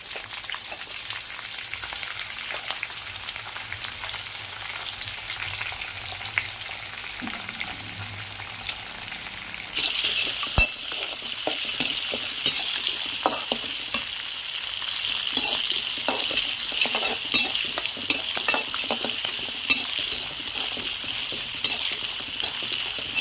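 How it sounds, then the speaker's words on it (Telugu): Green chillies frying in oil in a pan for Bombay rava upma with cashews: a low sizzle that jumps louder midway as more goes in, then crackles and pops with occasional spatula scrapes, close and continuous without speech. "ఇప్పుడు పచ్చిమిరపకాయలు వేసేసుకుందామండి."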